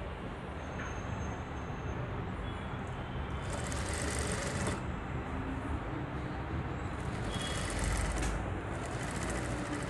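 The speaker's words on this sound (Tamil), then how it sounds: "அதுமாதிரி கொஞ்சம் தையல் போடலாம்" Fabric is stitched on a sewing machine, a continuous close mechanical clatter with brief faster bursts of whirring and rattling and no talk over it.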